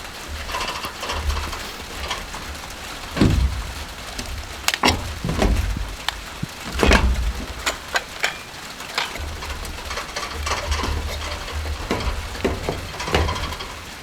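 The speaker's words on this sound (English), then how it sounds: "we finished it just in time for the rain" Rain falls on a newly finished roof as a dense, steady patter, with louder irregular knocks and drips scattered through it and no talking.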